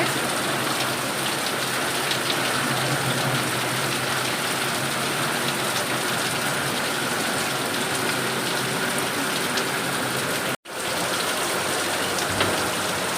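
Heavy rain pours outside in a steady, loud, dense hiss of drops on surfaces that fills the whole stretch, with one very brief dropout near the end and no talking.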